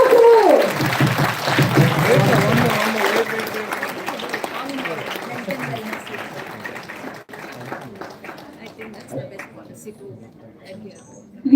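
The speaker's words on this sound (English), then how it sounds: "Please clap, everyone" An audience at a yoga school business meet applauds loudly for a few seconds, then the clapping thins and fades under scattered voices and crowd noise.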